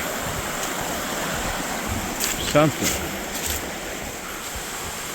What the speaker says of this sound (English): It's a pretty big waterfall.